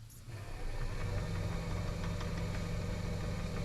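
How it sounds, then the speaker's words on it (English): A lathe drives a 7mm drill bit slowly into a pen blank, giving a steady low motor drone with a faint grinding whine, close and continuous. "This is the 7mm drill bit. I'm going to run it at slower RPMs and just kind of gradually going through"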